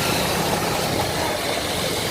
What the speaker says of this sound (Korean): 시내에는 많은 오토바이들이 운행하고 있었습니다.